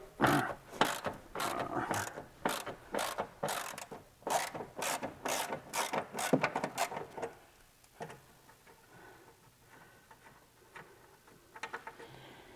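A ratchet wrench works a tight exhaust bolt loose on a Porsche 997, giving a fast run of loud, close clicking strokes that then fades to quieter, sparse clicks and handling noises.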